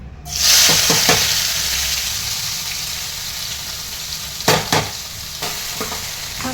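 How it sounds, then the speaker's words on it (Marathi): Onion and tomato hit hot oil for pav bhaji with a sudden loud sizzle that settles into steady frying hiss, broken by a few clinks and scrapes of stirring. "तेल तापलेलं आहे तर कांदा टोमॅटो टाकले"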